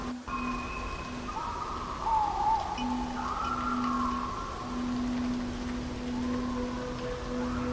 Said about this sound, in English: I'll also add some bird sounds, and I'll slow them down a bit to make them sound like bigger birds